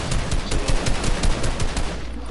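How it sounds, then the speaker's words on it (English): Rapid bursts of automatic gunfire crackle through a shooter video game, dense and loud with a fast repeating rhythm, close up and nearly continuous for a couple of seconds. "Bro, I'm getting shot at."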